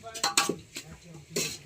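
A spoon clanking and scraping in a metal pot while a desi dish is mixed outdoors, several sharp close clinks and scrapes in quick irregular succession, with faint background voices.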